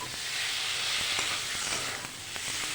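Stone-ground spice paste sizzles in hot oil while being sautéed for a thin rohu fish curry with potato and yam, a steady loud hiss with faint crackles throughout and no talking.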